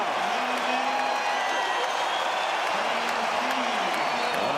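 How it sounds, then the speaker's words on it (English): A basketball arena crowd at a 2007 Rockets vs Jazz playoff game roars in a loud, continuous wash of cheering and whooping that holds steady throughout without breaks. "Listen to this crowd now."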